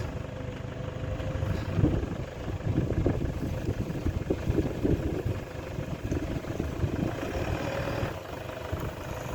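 Toyota Hilux engine running steadily while the pickup reverses, a continuous low idle-like rumble with some rougher bursts, close and loud, no speech over it.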